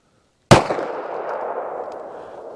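A single sharp 9mm shot from OneStrike CQB self-defense ammunition, close and loud, with a ringing echo that slowly fades.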